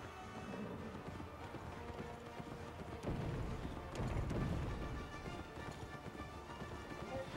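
A horse gallops in the video game Kameo: Elements of Power, its hooves clip-clopping in a quick steady rhythm over a busy game soundscape, growing louder and closer midway, with no talking.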